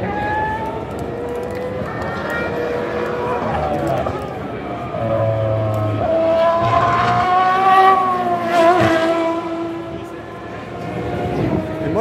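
Porsche race car at a Le Mans 24 Hours practice session, its engine note rising and falling as it passes, with a steady loud roar throughout and people talking over it.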